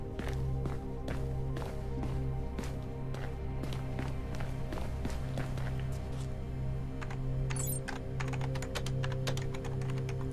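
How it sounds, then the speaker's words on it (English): Rapid keyboard typing in the video game Mirror's Edge, a steady run of crisp clicks over a constant low electronic hum, with no voices. "Yep, that's typing."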